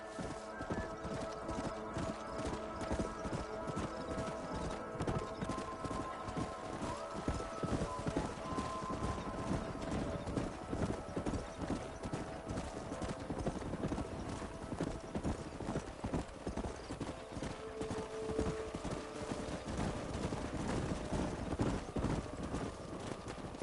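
Horse hooves clip-clop steadily in the Red Dead Redemption video game, a continuous trotting rhythm with an occasional neigh, while voices talk over the top.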